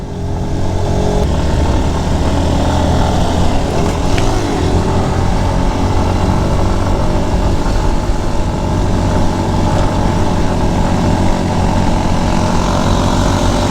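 Sports motorcycle engine droning steadily while riding on a hill road toward Dim Pahar in Bandarban, loud and continuous with wind rush throughout.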